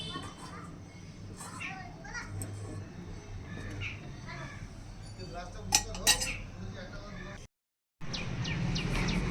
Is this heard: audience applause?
no